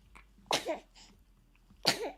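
Two sharp, quiet bursts about a second apart, a sneeze with a softer breathy sound between them, heard close and alone.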